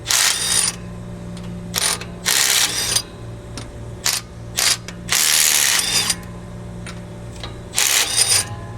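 A wrench is tightened on fittings of a Copeland compressor in a series of close, crisp ratcheting bursts, each lasting about half a second to a second and separated by short pauses, with a faint steady hum underneath.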